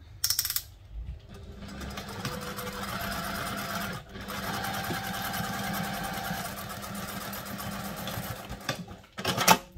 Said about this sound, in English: I'm just going to pick some lines and sew up